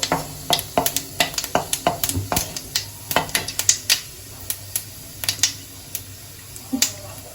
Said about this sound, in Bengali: এবার আমি 2টো শুকনো লঙ্কা আর এখানে মৌরি আর জিরে আছে, এটা ফোড়ন দিয়ে দিলাম